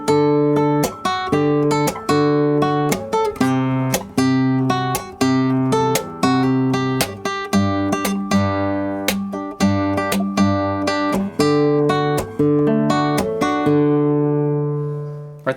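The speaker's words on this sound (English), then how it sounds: "So this is like the side thumb slap." Guitar side thumb slap played in a steady rhythmic groove, sharp percussive string hits with a snare-like rattle sounding up close alongside ringing melodic notes, then a final chord left to ring out.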